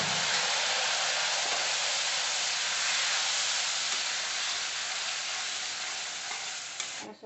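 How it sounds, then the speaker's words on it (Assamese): Ground spices with meat masala frying in a pan with a splash of water, a loud continuous hissing sizzle that fades slightly toward the end, with a brief clatter at the close. "পানী অলপমান দি পেলাই ভাজি লওঁ"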